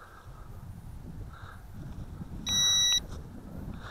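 A single electronic low-battery warning beep from a Juncheng 3015-2 drone transmitter, sharp and high, sounds once for about half a second over a quiet outdoor background.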